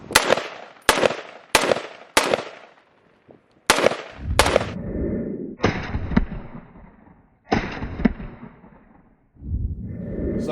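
HK91 .308 semi-automatic rifle shots, about nine sharp loud cracks fired in an irregular series, early ones quick and dry, later ones with rolling echo and outdoor rumble, no talk.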